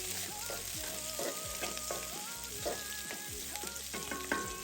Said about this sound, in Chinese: 小火翻炒約5分鐘，炒至蒜瓣微微金黃，紅蔥變軟，薑片散發香味